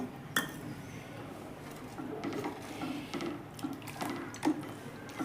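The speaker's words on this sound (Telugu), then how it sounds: "ఇంకొంచెం వాటర్ వేసుకుంటున్నాను" Water splashes and trickles into a metal pot of thick lentil stew, with light clinks of utensils in a quiet kitchen.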